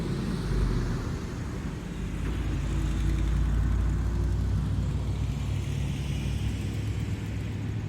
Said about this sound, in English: I'm gonna let this truck go by.